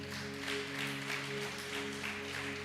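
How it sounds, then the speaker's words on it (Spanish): A church congregation applauding during a service, a steady, dense wash of clapping heard over sustained keyboard chords. "Date un aplauso para ti mismo"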